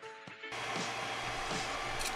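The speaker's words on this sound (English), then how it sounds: "The settings on this printer are dialed in" A 3D printer printing pieces for a Mandalorian pulse rifle build runs with a steady whirring motor drone and faint stepping tones, kicking in abruptly after a short quieter start, with no talking.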